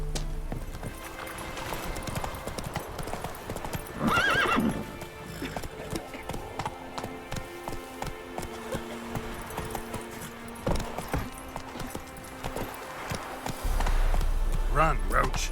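The horse Roach gallops in The Witcher 3, with rhythmic hoof clip-clops, a whinny partway through, and game ambience and a voice underneath.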